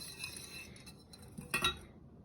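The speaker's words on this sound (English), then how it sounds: "We just wanna whisk it in there." A whisk works gingerbread mixture in a bowl, giving quiet clinks and scrapes against the bowl, with a brighter cluster of clinks near the end and no talking.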